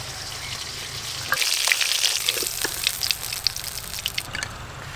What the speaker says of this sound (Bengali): মাছ ভাজা তো হয়ে গেল